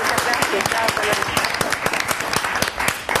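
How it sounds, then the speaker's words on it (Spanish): Studio audience applause on a live Argentine television variety show, a dense steady wash of many hands clapping at close range, with a voice talking over it. "aplausos para usted"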